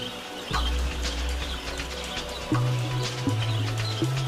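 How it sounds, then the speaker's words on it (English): A flock of wild budgerigars, small nomadic Australian parrots, chirping and chattering together: a continuous busy mix of short calls with a few clearer notes, moderately loud and close. "Wild budgerigars, or budgies, are social nomadic little parrots that come together in their hundreds to fly in"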